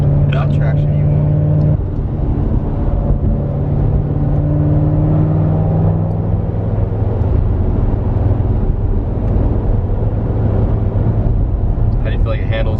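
A Corvette Z06 engine roars loud and close, its steady tones sliding and shifting in pitch as it pulls hard, with short bursts of voices at the start and end.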